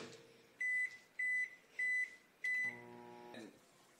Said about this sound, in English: we're going to stick it in the microwave in the bag for 30 seconds